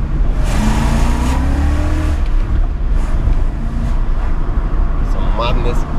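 A BMW E39 540i V8 with a manual gearbox driving on a road, a loud continuous engine drone as it accelerates, heard from inside the car with people talking over it.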